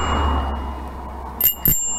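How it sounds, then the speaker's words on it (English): Two quick bell rings from a Jorvick JMT6 trike on a road climbing a hill, bright and close over steady traffic rumble, the second ring following shortly after the first. "I'll ring my bell in a moment, let him know that I want to go past"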